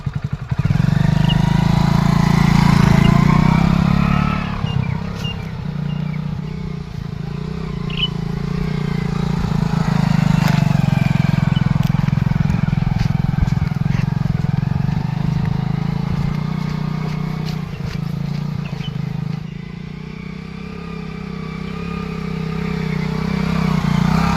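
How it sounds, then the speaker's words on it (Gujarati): A motorcycle engine drones steadily up close, its low rumble rising and falling slightly as it keeps running for a long stretch. "ધમાઈનું બાઈક છે"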